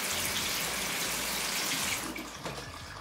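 Water runs from a tap, a steady rushing splash that continues throughout and thins and shifts a little near the end.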